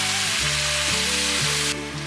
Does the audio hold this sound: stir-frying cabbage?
yes